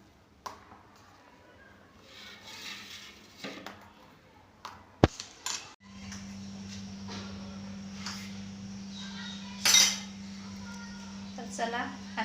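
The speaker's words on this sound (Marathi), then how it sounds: "हे सर्व मिश्रण मिक्स करून घेऊ" A spoon scrapes and clinks against a bowl while spices are stirred into mashed potato filling for aloo paratha. Sparse metallic taps come and go over a quiet kitchen, with a steady low hum setting in partway through.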